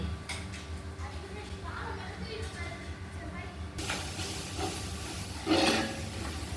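Ginger garlic paste sautéing in oil for veg biryani, a soft, steady sizzle that grows into a louder, brighter hiss in the second half, with a voice speaking in the background.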